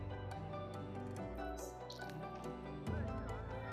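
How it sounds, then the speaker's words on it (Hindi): Soaked dahi vada lentil dumplings are squeezed by hand, giving soft, close dripping and squishing of water, faint and brief. "बड़े जो है इस तरह से हम पानी इसका सब निखार देंगे"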